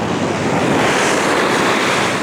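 Ocean waves surging at a beach in Zambales, a loud continuous roar of surf with broadband wash and some wind buffeting the microphone, steady throughout with no voices.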